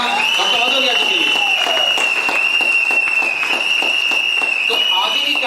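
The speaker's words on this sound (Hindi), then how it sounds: "जोरदार तालियां डॉक्टर भदौरिया जी के लिए" Audience at a recognition program in Ramnagar applauding to welcome the host, a continuous roar of clapping with a steady high ringing tone running through it and crowd voices underneath.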